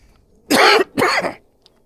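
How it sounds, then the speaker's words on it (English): A runner coughs twice in quick succession during a training run before a half marathon, two close, loud, harsh bursts with a brief pause between them and quiet afterward. "every time I try to run faster, I start coughing"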